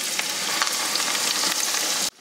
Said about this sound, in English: I like to use a wooden skewer, and if bubbles form around the bottom, then we're ready to go.